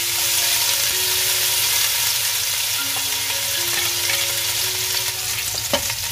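Spice paste sizzles steadily in hot oil in a pan for a jackfruit masala, a dense continuous crackle with a low hum beneath and one brief clink near the end.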